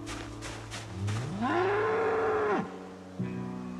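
Cow mooing in the video game Project Zomboid, a single long, loud, close moo that rises then holds before cutting off, over steady game background noise.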